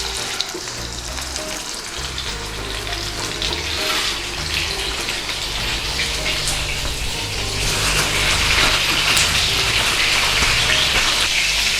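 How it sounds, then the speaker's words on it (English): A lamb shank sizzles in oil in a frying pan, a loud, dense, continuous hiss that swells slightly toward the end, heard close with no talking. "Now we need enough oil in there to actually start to fry our lamb."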